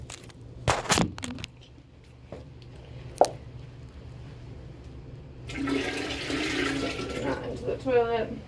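A bathroom toilet flushes midway through, a loud rushing swirl of water that follows a few sharp clatters and knocks, then trails off into gurgling refill.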